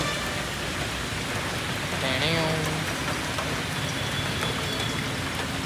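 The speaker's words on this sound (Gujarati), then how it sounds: "વરસાદમાં પલળતો હતો" Steady rain pours down outdoors in a constant, even hiss of drops, with faint background sounds now and then but no clear talk.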